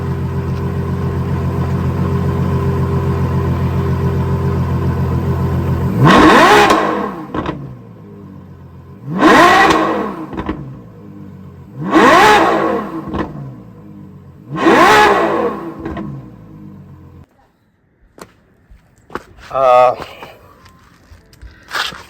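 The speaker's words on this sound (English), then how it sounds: "let's give it some revs." A Ferrari fitted with a custom titanium exhaust idles with a steady rumble, then barks through four sharp rev bursts spaced a few seconds apart. Each rev rises and falls quickly, followed by brief quieter sounds at the end.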